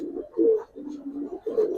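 Jabra Giribaz tournament pigeons at a loft cooing, a few low throaty coos in steady succession, close and moderately loud with no talk.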